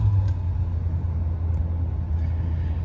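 A 1972 Mercury Marquis Brougham's big V8 idling just after starting, a loud, steady low rumble heard close up from inside the car, with no talk.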